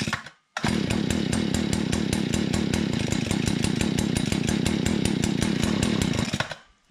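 A Stihl FS 40 string trimmer's small two-stroke engine catches after a brief pause and runs steadily at a loud, buzzing, rapidly pulsing pitch for several seconds, then cuts off near the end.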